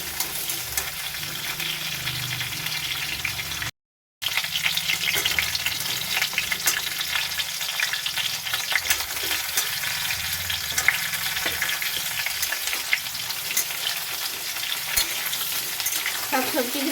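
Pumpkin pieces fry in a pan with a loud, continuous crackling sizzle that carries on steadily, interrupted only by a short silent gap.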